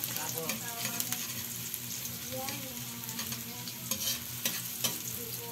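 Ginger and onion sauté in hot oil with a steady close sizzle, punctuated by light spoon clicks and stirring scrapes against the pan.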